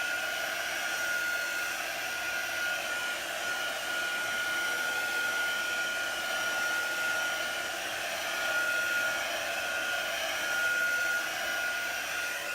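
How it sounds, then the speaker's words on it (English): A hair dryer running steadily to dry a chalk paste transfer on a canvas, a continuous close whooshing blow with a faint high motor whine and no pauses or talking. "especially with my hair dryer or my little heating tool going here"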